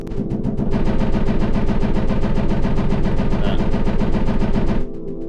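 Rapid, dense clicking turned into a harsh distorted buzz with a roomy reverb tail, running loud and continuous before cutting off abruptly near the end.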